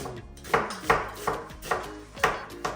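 Onions being chopped with a knife on a cutting board in a home kitchen, about seven sharp, evenly spaced cuts at a brisk rhythm, close and clear with no talk.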